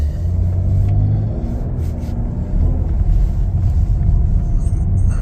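A 2023 Chevrolet Blazer RS with a six-cylinder engine pulling away, giving a steady loud low rumble of engine and road noise with a slight rise partway through.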